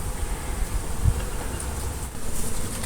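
A swarm of bees buzzes densely in a hive box fitted with old comb frames after removal from a termite-damaged house, a continuous close drone of many wings with a brief low thump partway through.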